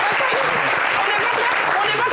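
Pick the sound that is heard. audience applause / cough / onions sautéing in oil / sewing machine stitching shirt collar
audience applause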